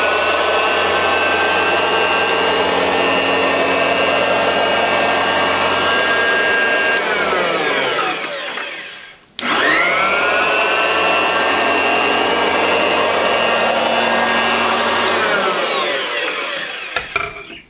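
An electric sewing power tool cuts through layered flannel and cotton strips in two long, loud, continuous whirring passes, each ending as the motor winds down, with a brief pause between them.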